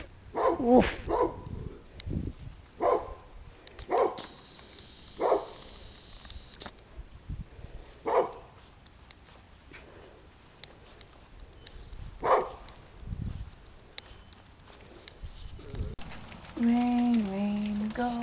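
A dog outdoors near mud lets out repeated sharp barks spaced a few seconds apart, some of them in quick pairs, with quieter stretches between and a brief whine near the end.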